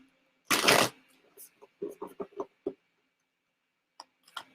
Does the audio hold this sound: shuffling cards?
yes